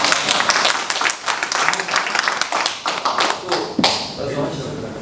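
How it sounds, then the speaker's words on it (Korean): Applause breaks out from a seated audience at a meeting of small-business owners, dense clapping that builds and then thins out, with voices talking over it. "끝까지 물고 늘어지신다는 데에서 정말 박수를 한번 해주세요"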